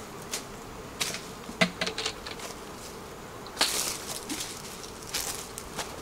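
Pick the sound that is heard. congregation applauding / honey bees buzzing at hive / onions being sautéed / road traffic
honey bees buzzing at hive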